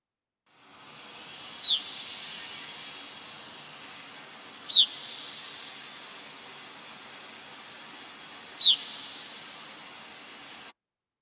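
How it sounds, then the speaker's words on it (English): Gray-cheeked thrush calls: three short, high whit or peep notes spaced a few seconds apart, each clear and distinct over a steady background hiss. "The gray cheek call sounds like a whit or peep."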